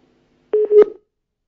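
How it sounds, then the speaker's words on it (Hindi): A telephone line cuts out on a live call, leaving a short, loud electronic busy tone of a couple of clipped beeps on its own, with no voices over it. "चलिए, फोन डिस्कनेक्ट हो गया।"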